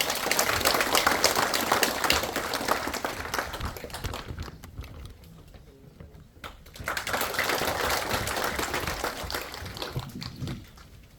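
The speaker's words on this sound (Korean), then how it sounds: "박수로 부탁드립니다" Audience applause at a Korean commemorative report meeting, welcoming the North Gyeongsang governor's congratulatory speech: dense, loud clapping from a crowd, thinning to a lull midway before swelling again into sustained applause.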